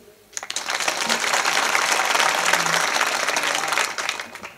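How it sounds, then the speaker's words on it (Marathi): A devotional kirtan audience bursts into loud, sustained clapping, many hands together at close range, swelling for several seconds before tapering off. "एकदा महिला मंडळ टाळी वाजव बरं"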